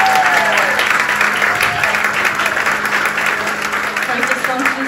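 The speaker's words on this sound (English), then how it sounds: "So can we give him a round of applause?" An audience gives a hearty round of applause, steady dense clapping from a crowd that fills the whole moment at close range.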